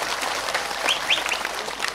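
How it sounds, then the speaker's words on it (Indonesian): A crowd claps steadily and loudly for the whole stretch, dense and even, at a lively Indonesian religious gathering where a 2024 presidential campaign speech by Prabowo is being given. "Tepuk tangan untuk Pak Prabowo."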